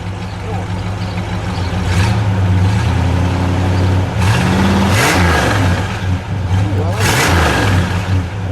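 A 1964 Plymouth Sport Fury convertible with its 426 Street Wedge V8 revs loudly up close, a deep rumble climbing in pitch and falling back over a steady idle.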